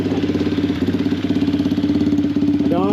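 Venom X19 pocket bike engine idling right after starting on a fresh carburetor, a close, steady rapid putter with even pulses and a brief rev blip near the end, no talk.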